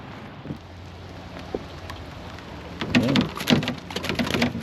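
Steady rain falling outdoors during a rainy-day fishing session, a constant soft hiss with brief louder patches of splashing and movement near the end.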